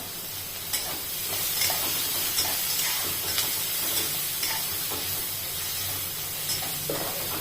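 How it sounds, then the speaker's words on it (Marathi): Finely chopped medium onions sauté in a pan with a constant close hiss and sizzle, broken by regular scraping stir strokes. "चांगला कांदा परतवून घ्यायचा आहे"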